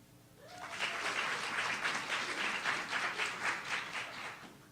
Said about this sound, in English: So, audience, I would like you to applaud for who you think won that hug.